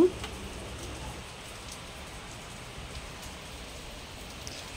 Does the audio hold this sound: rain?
yes